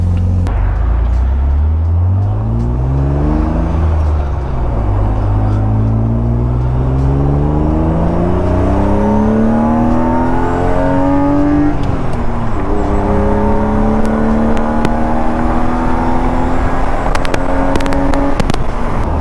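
A loud BMW E36 convertible engine revs up steadily through the gears, pitch climbing, dipping at a shift, then climbing again, close and continuous.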